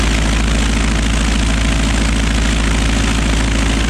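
A Piper Cub aircraft engine on skis drones loudly and steadily, a close, continuous propeller roar with a throbbing low pulse and no speech.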